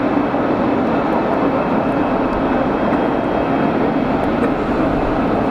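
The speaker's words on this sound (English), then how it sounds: "This guy taxi to gate." Airliner taxiing to the gate at Geneva Airport, a loud, steady low engine rumble and broadband roar that holds evenly throughout, with no voices.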